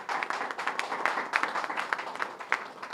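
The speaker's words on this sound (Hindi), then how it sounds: "सबसे पहला जरा जोरदार तालियों से।" Audience applause at a community welfare organisation's event, steady crisp clapping from a crowd throughout the short stretch, moderately loud and without talk.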